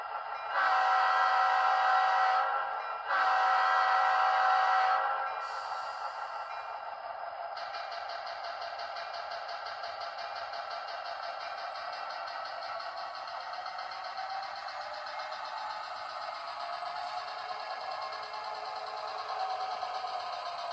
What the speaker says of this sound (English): It's an Athearn Genesis SD80 Mac that I had Georgia Bigfoot Trains upgrade with a Lokesound V5 decoder